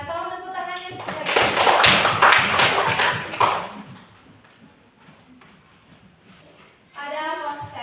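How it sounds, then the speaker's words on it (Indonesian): A classroom of students claps hands together in a burst of fast, overlapping applause lasting a couple of seconds, fairly close, with a teacher's voice speaking before and after. "tolong tepuk tangannya sekali"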